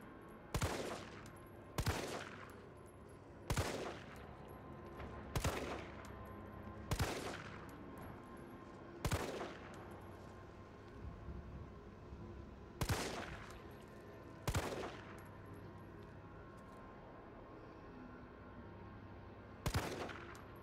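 Gunfire in Resident Evil 3: about ten sharp single shots ring out at irregular intervals of a second or two, followed by a longer quiet stretch before a final shot, all loud and close.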